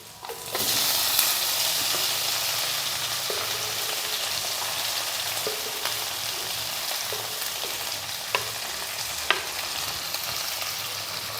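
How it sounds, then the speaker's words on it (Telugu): Chopped tomato pieces tip into softened onions in a pan for tomato rice, setting off a steady, close sizzle of frying that runs throughout, with occasional sharp clicks of stirring and scraping. "సో ఈ ఉల్లిపాయల్లోకి మనం కట్ చేసిన టమాటా ముక్కల్ని వేసుకుందాం"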